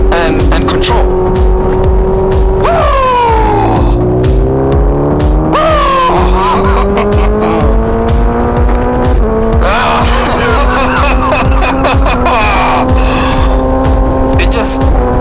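A motorcycle engine revs hard and climbs through gears in repeated rising surges, loud and close, with sharp shifts between pulls and a continuous roaring drone.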